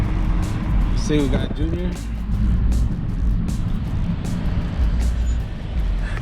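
A car drives along with a steady low engine and road rumble heard from inside, while people talk over it throughout.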